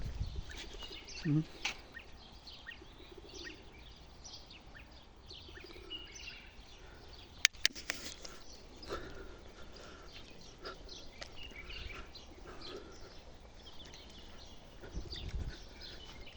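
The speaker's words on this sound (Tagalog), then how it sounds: "May mga kalapati rin dito." Pigeons, apparently racing birds, coo and chirp intermittently in Riyadh against a faint outdoor background, with soft voices murmuring and a couple of sharp clicks midway.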